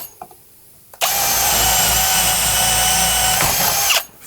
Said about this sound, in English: We get our drill about 2mm smaller than the actual hole. This is a 14mm hole, so I'm going to use a 12mm bit.